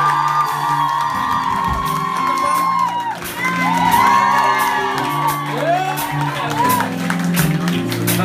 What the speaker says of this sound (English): A big round of applause for these boys as well.